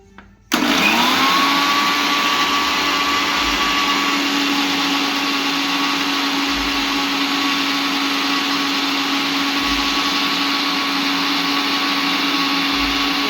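A kitchen blender starts after a brief quiet moment and then whirs steadily at high speed, beating vinegar and cooking oil into mayonnaise. The motor runs loud and constant to the end.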